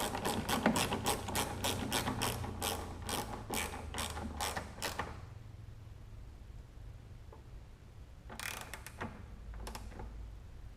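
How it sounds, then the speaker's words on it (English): A ratchet tightens a bolt on a Porsche 944 during an LS engine swap, with a rapid run of close, crisp clicks, then a pause and a short second burst of clicks. "Very, very carefully tighten this one down."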